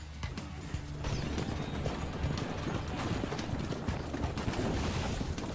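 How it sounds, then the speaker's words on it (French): A horse's hooves clip-clop in Assassin's Creed II as a quiet, steady stream of soft thuds continuing throughout against low game ambience. "Non, le poney!"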